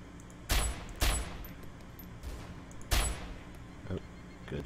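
Gunshots in the video game DayZ Overpoch: several loud single cracks spaced irregularly, one to two seconds apart, each with a short decay, plus a fainter distant shot, over a low background with some voices.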